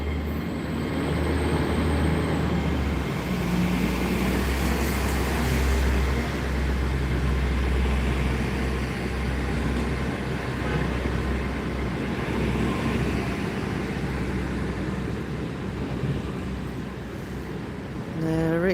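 A train pulling away from a station platform in Gloucester, its engine a steady low rumble and drone that holds loud and continuous for many seconds, with wheel and rail noise layered over it and no voices.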